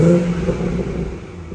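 A BMW 440i M Sport coupe in sport mode with an exhaust valve open revs up loudly with a deep throaty exhaust burble, then settles and fades over a second or so.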